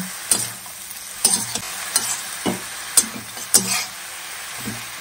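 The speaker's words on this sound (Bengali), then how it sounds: "কাটা শাকগুলি দিয়ে দিলাম, আর সামান্য লবণ দিলাম, এখন নাড়াচাড়া দিয়ে মিশিয়ে নেব।" Chopped greens and a little salt being stirred in a frying pan, a soft sizzle underneath with several separate scraping strokes at an uneven pace, close and moderately loud.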